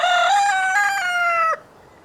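A farmyard rooster crows once, loud and close, a sustained harmonic call lasting about a second and a half before cutting off into quiet background.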